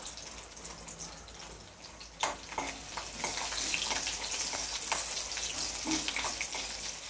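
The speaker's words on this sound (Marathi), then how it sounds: "आता त्याच्यामध्ये मी पाव चमचा मोहरी टाकून घेते आणि लगेचच मी 10 ते 12 लसूण अशी चांगली ठेचून घेतलेली आहे," Mustard seeds and crushed garlic fry in hot oil with a steady, moderately loud sizzle, a few sharp pops and spatters standing out through the middle and end.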